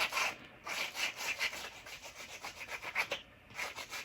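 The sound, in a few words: small sander on edges of a wooden cross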